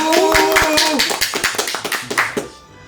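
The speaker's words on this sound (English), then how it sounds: "we clapped over Spice Line" A small group clapping in an irregular burst of sharp claps over cheering and talk, the claps thinning out and stopping after about two seconds.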